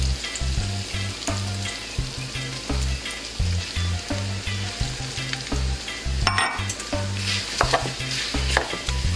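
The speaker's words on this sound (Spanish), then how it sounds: "lo que vamos a hacer es echarle la cebolla y los chiles también para que se empiecen como" Onion and chiles fry with sausages in a pan, a steady loud sizzle with scattered crackles and occasional stirring scrapes, continuous for about nine seconds with no talking.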